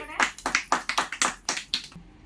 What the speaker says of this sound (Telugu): వెరీ గుడ్, క్లాప్స్ కొట్టండి